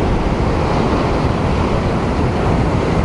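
Ocean surf and wind roar steadily against a rocky shore during salmon fishing near Walpole, a dense, loud, unbroken wash with no voices.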